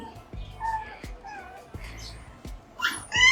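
Small Chihuahua puppies, two and four months old, whimper and yelp in short, high cries inside a pet store, with soft thuds in between and a few squeaky whines near the end.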